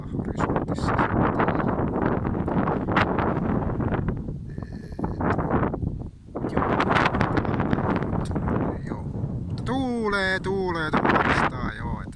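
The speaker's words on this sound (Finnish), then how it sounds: "Tuulee vastaan" Strong wind buffets the microphone outdoors on a hilltop near Turku, loud rumbling gusts filling most of the recording, with a voice speaking briefly near the end.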